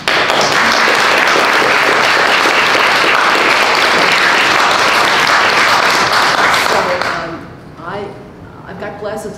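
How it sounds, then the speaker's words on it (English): A lecture audience gives a guest speaker a round of applause, thick, loud clapping that runs steadily and then tapers off abruptly as a voice begins talking. "a round of applause."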